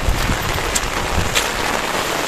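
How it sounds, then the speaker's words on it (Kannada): Heavy rain pours down at a riverside camp in dense forest, a dense, steady wash of noise up close with no voices. "ಸ್ನೇಹಿತರೆ ಮಳೆ ಜಾಸ್ತಿ ಬರ್ತಾ ಇದೆ"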